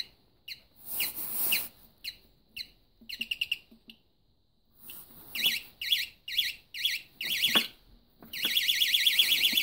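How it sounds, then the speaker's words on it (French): An airsoft prop bomb sounds its electronic alarm, a series of shrill, piercing beeps and trilling chirps in uneven bursts with brief pauses, ending in a sustained rapid beeping, close and alone. "Voilà, et elle sonne."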